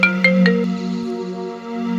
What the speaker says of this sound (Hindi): भाभी जी के नंबर से फोन आ रहा है